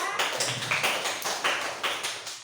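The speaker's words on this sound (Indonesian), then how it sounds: "Iya, tepuk tangan ya" Clapping in a classroom comes as a few crisp, evenly spaced group claps in a steady rhythm, moderately loud in a small room.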